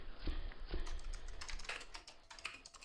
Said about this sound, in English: Ooh, someone's clicking.